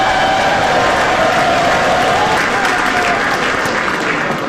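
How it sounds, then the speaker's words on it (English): Loud, dense applause from a large audience at a political speech, sustained and roaring with some cheering and a faint rising whistle woven in, close and continuous. "Thank you for that very generous applause."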